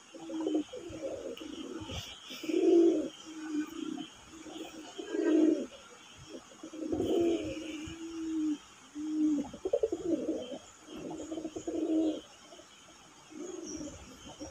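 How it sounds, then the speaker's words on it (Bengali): Raj Golla pigeons coo in repeated soft, throaty phrases, several bouts one after another, close and fairly clear with faint background hum. "খুব ভালো মানের কবুতর"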